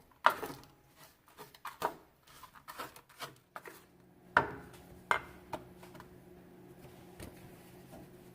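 Toasted, dried-out cornbread pieces stirred in a bowl, giving scattered dry crumbly rustles and light scraping knocks in irregular bursts, close and fairly quiet, with brief pauses between stirs.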